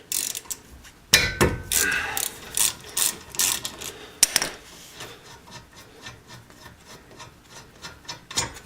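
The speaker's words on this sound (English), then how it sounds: "we're going to take out this 14 millimeter bolt that's down here" A ratchet clicks away at a 14 mm caliper bolt on a 2003 Hyundai Santa Fe front brake, with rapid, uneven pawl clicks and strokes close up, alongside occasional metallic knocks.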